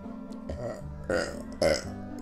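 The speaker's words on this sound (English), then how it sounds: "Why do I keep burping with the fudge?" A person's burps while eating fudge: two loud, close, throaty belches in quick succession over a background of low music.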